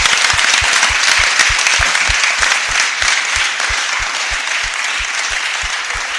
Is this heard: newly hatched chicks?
no